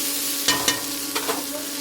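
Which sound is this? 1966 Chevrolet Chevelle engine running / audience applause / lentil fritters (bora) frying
lentil fritters (bora) frying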